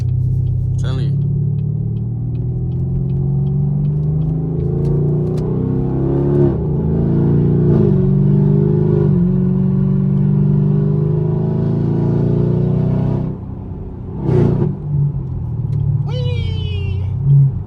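A catless, straight-piped Camaro SS with a 6.2-liter V8 drones loudly at highway speed, with the exhaust note rising and falling as the car accelerates and shifts. Someone talks over it.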